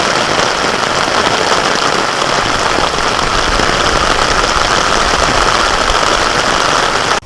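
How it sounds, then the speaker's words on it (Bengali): Heavy rain pours down over open farm fields as a loud, dense, unbroken hiss that holds steady throughout, with no voices. "প্রচুর দূর বৃষ্টি এসে গেছে।"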